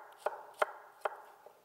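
A knife dicing a shallot on a cutting board, four crisp chops spaced about a third of a second apart, the last one softer, close and quiet with no talking.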